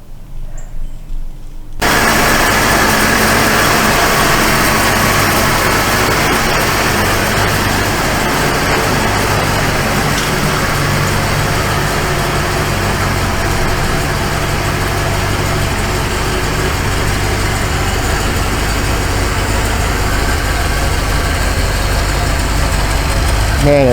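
A 1978 Ford Mustang II engine starts and then idles at a steady, smooth, low rumble that stays loud and close throughout, with no voices over it.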